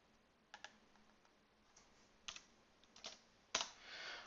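Keystrokes on a computer keyboard while entering a value in SketchUp 8, a few faint scattered clicks with pauses between them and a slightly longer burst at the end.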